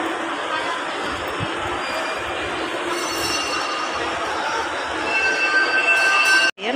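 A small train circles inside an Ayala shopping mall, its rolling rumble and faint wheel squeal blending with a busy crowd murmur and someone talking, growing slightly louder near the end before a brief dropout.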